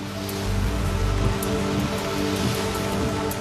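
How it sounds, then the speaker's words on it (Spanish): Dense, heavy torrential rain pouring down continuously over São Paulo, a loud wash of drops drumming on surfaces with a low rumble underneath. "Lluvias torrenciales caen sobre la ciudad más grande de Brasil."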